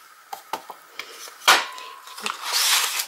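Paper hole punch perforating scraps of paper during a table-decoration box craft: a few sharp clicks and clacks, then one louder punch snap followed by rustling, close and dry with no talk.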